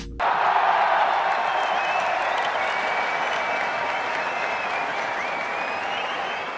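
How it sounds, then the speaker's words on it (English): AI-generated stadium crowd cheering and clapping, a sudden onset of loud dense applause and roaring voices that holds steady for several seconds before easing slightly toward the end. "ended up with this little cheering sound that we're going to use on this video"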